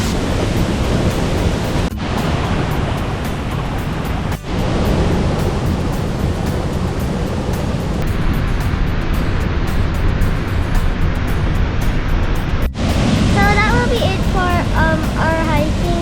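Rushing water from the twin waterfalls at Bunga Falls makes a dense, steady roar that fills the whole scene without a break, and a voice speaks over it near the end.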